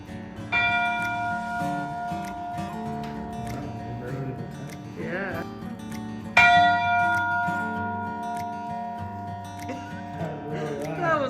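A restored bell donated by Burlington Northern Railroad rings out loud and near in Wallace, Idaho, with several strikes whose bright tones hang and ring on, one strong fresh strike partway through.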